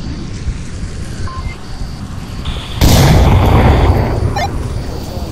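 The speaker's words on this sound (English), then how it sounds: "I got hit with a grenade." In the Onward shooter game, a grenade explodes in a single loud, close blast that cuts through low background rumble, followed by a sustained noisy decay.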